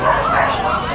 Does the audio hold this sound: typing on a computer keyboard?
no